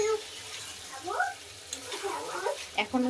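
Bottle gourd curry is stirred and sautéed in a pan, giving a quiet, soft sizzle with intermittent scraping strokes.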